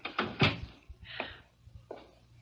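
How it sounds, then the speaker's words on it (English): In a 1977 Sherlock Holmes radio drama, a door swings shut with a couple of sharp knocks and clatters, then two softer thuds of handling follow, close and without voices. "Come in and close the door."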